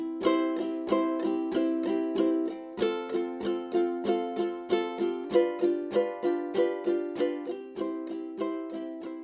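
Ukulele strummed down and up in an even, unbroken rhythm through a few chord changes, each stroke crisp and close, played alone.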